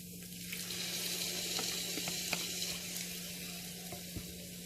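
Tomatoes cooking in a pan for a vegan tofu biryani give a steady, soft sizzle with faint watery crackle and a few light clicks, fairly quiet and continuous with no talking.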